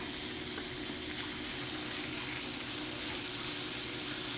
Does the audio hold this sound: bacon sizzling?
yes